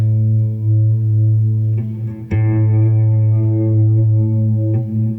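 Sustained electric guitar notes through a DigiTech Polara stereo reverb pedal, washed in lush, lingering reverb, with a new chord struck midway that rings out and blooms into the space.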